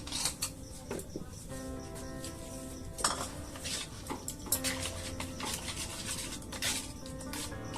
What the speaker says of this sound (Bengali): যেটা ডিমটা রেখেছিলাম, ডিমটা ফেটে নেবো